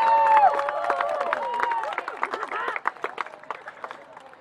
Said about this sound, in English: give a big round of applause one more time for KCHS senior football player